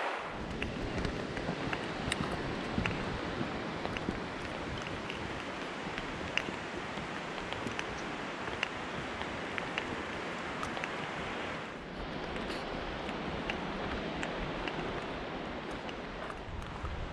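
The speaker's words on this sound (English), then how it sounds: "You can hear the river next to us." The river beside the Porters Creek trail in the Great Smoky Mountains gives off a steady broadband rush that goes on unbroken the whole time, with slight changes in texture partway through.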